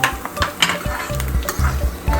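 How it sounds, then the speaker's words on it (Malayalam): Sliced onions frying in hot oil for a home-made chicken biryani, a continuous crackling sizzle with a few scraping stirs of a spoon in the pan, close up and with no talking. "നമ്മുടെ സവോള കുറച്ച് വറുത്തുകൊണ്ടിരിക്കുകയാണ്"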